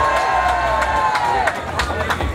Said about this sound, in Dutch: met uw warm applaus voor Kevin Pauls.